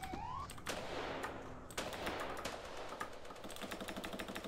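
Rapid gunfire from the video game SAMP, a burst of sharp repeated shots with some louder cracks standing out, carrying on steadily under a dense layer of game noise.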